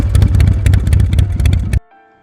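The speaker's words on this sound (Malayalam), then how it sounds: "ബൈക്കിലേക്ക് കയറിയ മഹി അത് സ്റ്റാർട്ട് ചെയ്തിട്ട് മെല്ലെ ഇരപ്പിച്ചു." A motorcycle engine runs with a steady low throb and gentle revving, close and fairly loud for under two seconds before cutting off abruptly into near silence.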